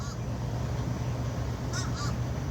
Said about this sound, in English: This bird up here keeps saying, uh-oh.